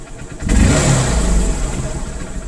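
A 2009 Bajaj BS2 motorcycle engine, tuned to run on E20 petrol, revs sharply after a brief quiet idle, holds a loud throaty roar, then eases back down as the throttle is released.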